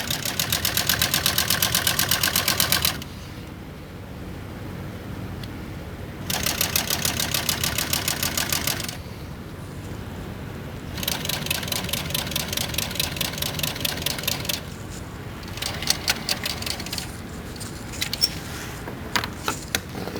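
A sewing machine stitches fabric for a cushion cover in loud, steady mechanical bursts of a few seconds each, separated by quieter pauses, with shorter irregular runs toward the end as the bobbin runs out.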